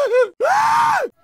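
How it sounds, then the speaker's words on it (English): Two strained, drawn-out screams from characters in the video game Left 4 Dead 2: a short cry followed by a longer, loud wail that rises and falls before breaking off. "If you want to know how great the voice actors are, just listen to their screams."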